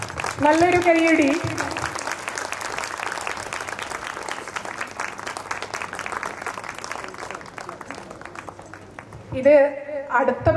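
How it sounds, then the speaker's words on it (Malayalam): Applause from an audience at a staff award ceremony, a dense, steady clatter of many hands that runs for several seconds, with people speaking over it at the start and again at the end. "നല്ലൊരു കയ്യടി."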